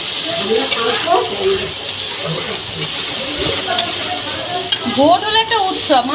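Prawn and spice masala stir-fried in a pan, with a steady sizzle and frequent scraping stirs of a spatula, fairly loud and close throughout.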